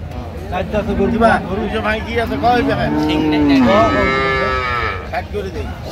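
Cattle low repeatedly at a crowded village livestock market in Dinajpur where milk cows and calves are sold, long, loud drawn-out moos close by over a background of people talking.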